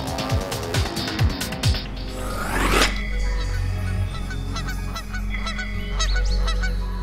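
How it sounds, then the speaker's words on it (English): A flock of geese honks in a rapid burst, then a rushing swoosh passes and the honking continues more distantly over a low steady rumble. "Just like birds traveling in flock, completing some of nature's most extraordinary global journeys."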